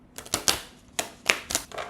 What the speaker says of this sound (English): Do a grand shuffle with these, master shuffle.